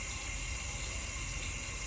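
Continuous running tap water, an even hissing rush that stays constant throughout, with no talking over it.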